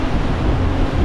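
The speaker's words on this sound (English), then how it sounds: "we've still got quite a few waves coming at us" Waves strike a student sailing boat at sea on a rough passage from Cardiff to Swansea, a loud continuous wash of water and wind noise with no pauses.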